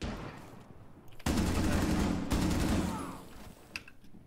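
Gunfire in Rainbow Six Siege, with a sudden loud burst of rapid shots, a brief break, then another sustained volley that gradually fades.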